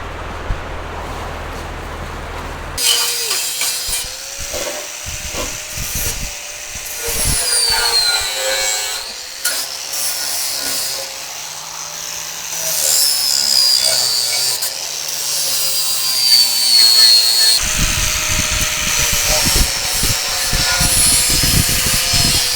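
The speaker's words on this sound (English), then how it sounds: "I think I'm going to clean these edges up and maybe grind a little bit of a bevel to it." An angle grinder bevels the cut sheet-metal body edges of a Jeep Cherokee XJ chopped in half, a harsh continuous whine with shifting pitch that runs for most of the stretch after a quiet start, close and loud.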